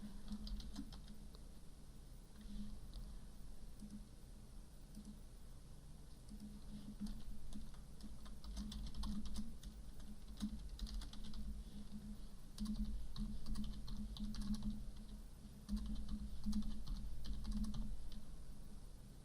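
Employment details typed on a computer keyboard: a long, steady stream of quick, close key taps over a low hum, with no voices throughout.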